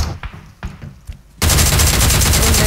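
Loud continuous automatic gunfire from a mobile shooting video game erupts after a few sparse shots and clicks, a dense rapid fusillade sustained to the end.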